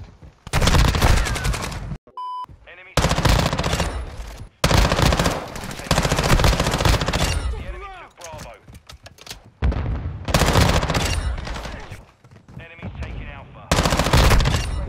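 Rapid bursts of machine gun fire from Call of Duty: Modern Warfare 2 multiplayer gameplay with the BAS-P, loud, repeated volleys separated by short gaps over roughly fifteen seconds.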